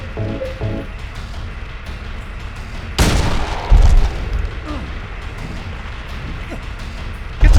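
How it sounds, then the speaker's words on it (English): Rifle shots in the video game Silent Hill 2: two heavy, close booms fire in quick succession mid-clip, with a third blast at the very end, over a low, murky game rumble. "The rifle's really slow, but it does a lot of damage."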